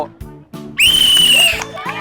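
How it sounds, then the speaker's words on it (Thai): A referee's whistle starts a team game at a temple fair contest in Phetchaburi, Thailand: one loud, shrill, sustained blast lasting under a second, with voices just before and after it. "ฟังเสียงนกหวีดนะครับ"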